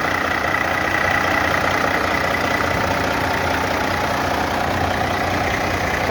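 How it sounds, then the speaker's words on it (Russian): A Freightliner truck's diesel engine idles steadily after starting, a continuous mid-to-low rumble held at an even level throughout, with no talk over it. "Так, сейчас заведу, покажу, как он работает."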